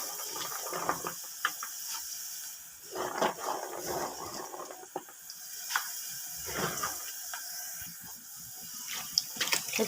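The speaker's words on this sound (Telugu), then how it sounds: "వాటర్ అయితే బకెట్లో పోసుకున్నాను." Water is poured into a bucket for washing amaranth and spinach greens, a continuous splashing and trickling with sharper splashes and clinks scattered through it, fairly close and with no talk.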